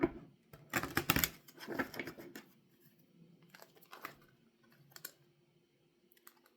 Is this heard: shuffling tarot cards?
yes